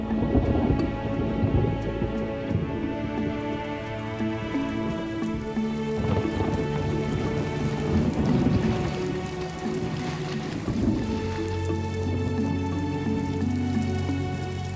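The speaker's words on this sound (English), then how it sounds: "The last few days have seen violent storms moving in swiftly and suddenly." A violent wet-season thunderstorm in Namibia: heavy rain pours down without a break while low thunder rumbles beneath it. The whole storm stays loud and close from start to finish, with no voices.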